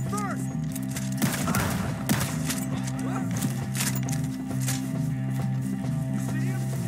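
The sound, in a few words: gunfire in Red Dead Redemption 2 video game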